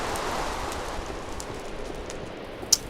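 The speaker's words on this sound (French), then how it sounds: "Et il pleut, c'est génial." Steady rain falling in a Minecraft world, a soft continuous hiss with one brief sharp tick near the end, no voices.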